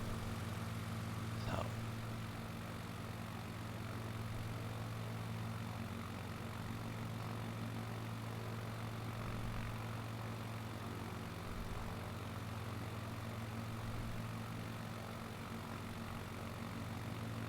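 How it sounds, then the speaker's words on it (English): A Cessna 421 twin-engine airplane in flight over the Sierra Nevada region of Nevada, its propeller engines giving a steady, even drone heard from inside the cabin, constant and unbroken with no talk. "we're going to take the airplane down into the canyon here"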